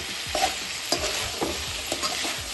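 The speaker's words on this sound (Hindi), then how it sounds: "अब इसको थोड़ा तेज आंच पे ही ना थोड़ी देर भुनेंगे अच्छी तरीके से" Potatoes frying on high heat, with a steady sizzle and repeated scraping stirs of a spoon against the pan, close and clear, with no voices.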